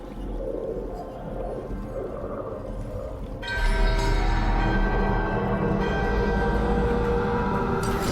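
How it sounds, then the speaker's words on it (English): In the video game Dragon Age: The Veilguard, a ritual bell slowly wakens: a low, dark drone swells and, partway through, bright ringing metallic tones and shimmering overtones burst in and hold loudly. "The bell is slowly wakening, but we must fight a little longer."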